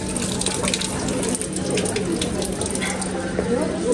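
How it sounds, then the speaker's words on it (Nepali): Water runs steadily from a tap in a continuous close, even rush that lasts throughout, with faint voices in the background. "कस्तो लाग्यो हजुरलाई धाराको पानी"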